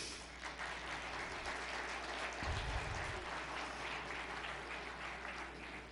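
Audience applause at a conference speech, a sustained, dense wash of clapping from a large crowd filling the room, steady throughout with no talk.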